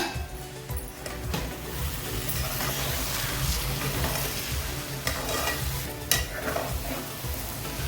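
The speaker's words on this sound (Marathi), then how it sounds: "झाकण काढून तळापासून परतवून घेऊया" Semolina sheera is turned over from the bottom of a pan, giving a low steady sizzle with scraping stirs and a few brief knocks of the spoon.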